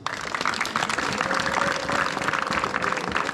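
A church congregation applauding, dense continuous clapping from a crowd filling the room, loud and sustained throughout with faint voices underneath.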